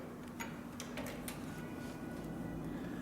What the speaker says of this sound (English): we're going to demonstrate this machine on 3 layers of approximately 8 to 10 ounce tooling leather